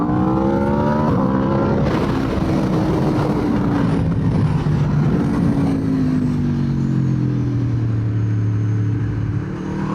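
An Aprilia RSV4 superbike on a test ride, its engine loud and close, revving high then winding down through falling and shifting tones, with steady wind roar throughout.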